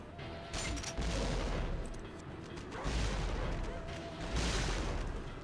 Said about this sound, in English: We're gonna go grenade gun for a bit.